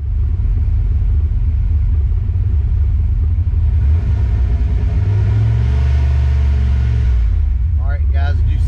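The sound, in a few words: Ford Mustang Foxbody engine starting and revving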